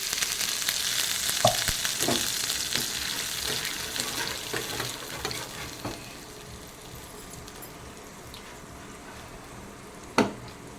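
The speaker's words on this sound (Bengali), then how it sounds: "এরপরে সব মশলাটা আমি ভেজে নেবো।" A spice paste sizzles and fries in a pan for chhanar dalna, a steady hiss with scattered spatters and occasional clinks of stirring, fading slightly toward the end.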